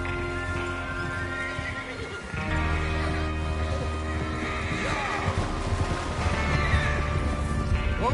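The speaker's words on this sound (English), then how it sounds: "Get your horses ready." Horses whinny and hooves clip-clop in a Red Dead Redemption 2 camp scene, with a loud neigh near the start, steady hoofbeats throughout and faint voices in the background.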